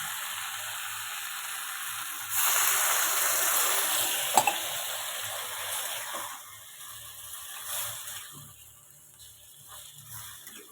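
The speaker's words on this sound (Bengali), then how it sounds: "এবার আমি পরিমাণ মতো জল দিয়ে দেবো" Water poured into a pan of cooking figs makes a burst of hissing sizzle that rises abruptly, holds for a few seconds with a sharp clink, then fades back to a low simmer.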